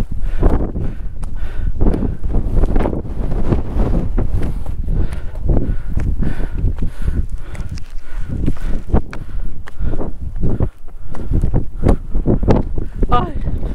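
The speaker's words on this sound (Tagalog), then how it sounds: "Lakas pa naman ng hangin." Strong gusting wind buffets the microphone on a mountain summit during a day hike, a loud, rough rumble that keeps rising and falling while hikers talk.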